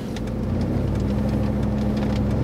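Jeep Grand Cherokee ZJ with a Magnum V8 engine idling, a steady low rumble with an even, continuous hum, moderately quiet and without voices.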